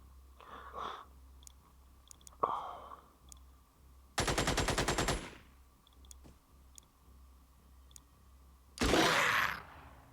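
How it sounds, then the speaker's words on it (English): Gunfire in a tactical video game comes as a sustained automatic burst in the middle and a noisy blast near the end, with scattered clicks and shorter bursts over a faint background hum. "he came point blank and started shooting my guy"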